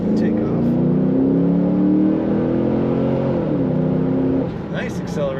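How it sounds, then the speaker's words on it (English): A 2012 Chevrolet Camaro SS 45th Anniversary convertible accelerates with a loud, rising engine drone that shifts gear partway through, heard from inside the car before easing off near the end, with a voice briefly audible. "Nice acceleration."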